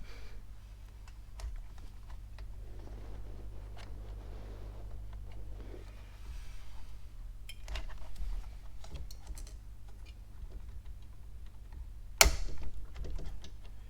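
During a PC upgrade, a part is latched into place. Quiet handling and faint plastic clicks lead up to one sharp, loud snap near the end, with no talking.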